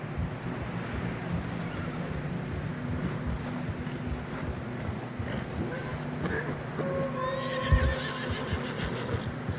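Horses neigh and whinny while hooves clop through deep fresh snow in the video game Red Dead Redemption 2, with steady wind noise and a sharper whinny near the end.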